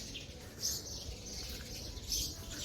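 Sparrows chirp at nesting boxes set up for them on a veranda, a few faint high tweets over steady low background noise.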